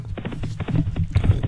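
Racehorses gallop away at the start of the Charlie Hall Chase steeplechase, a rapid muffled drumming of hooves at moderate distance, steady and rhythmic with no voice over it.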